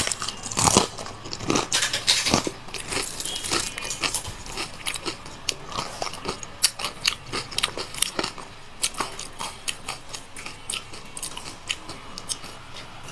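Close-up crunchy chewing and biting of a meal eaten with potato, irregular moist bites and crackles repeating steadily, fairly near, with no talk over it.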